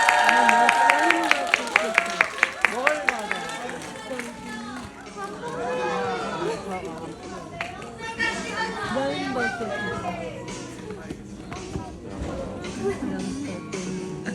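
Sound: audience applause at a film stage greeting

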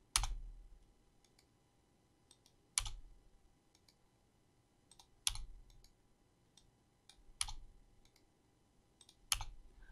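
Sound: mouse clicking while duplicating groups in Photoshop

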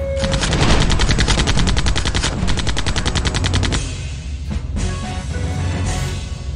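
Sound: robot's torso blast attack in the video game Septerra Core

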